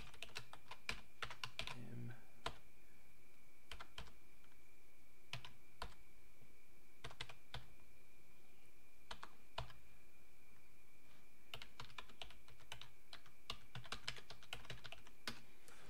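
Someone typing on a computer keyboard while setting up software on a Linux machine: faint, close key clicks in irregular bursts and pauses over a steady low electrical hum, with no talking.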